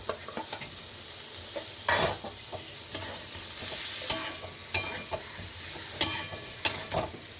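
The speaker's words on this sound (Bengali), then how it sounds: "ওই পেঁপেটা আমি দিয়ে দিচ্ছি" Half-boiled papaya dropped into a hot, sizzling pan, then stirred with repeated sharp scrapes and clacks of a utensil over a continuous frying hiss, with no talking.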